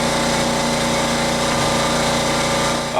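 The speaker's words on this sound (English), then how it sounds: "If you hear that hissing noise in the background, it's my heater" A heater hisses steadily in the background, broadband and constant over a faint mechanical hum, with no talking.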